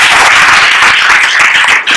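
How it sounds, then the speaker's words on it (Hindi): Loud, dense applause fills a Christian church gathering, a crowd clapping steadily and close for about two seconds with no talk. "जोरदार तालियां।"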